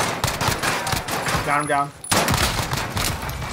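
Pistol gunfire in the video game Call of Duty Warzone, a rapid run of sharp shots under excited talk, broken by a brief gap, then more shooting and chatter.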